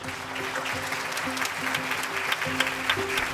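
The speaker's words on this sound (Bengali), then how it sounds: "সবার জন্য জোরে একটা করতালি" An award-ceremony audience applauds loudly and steadily for about three seconds at the Meril Prothom Alo Awards, with the dense clapping filling the hall.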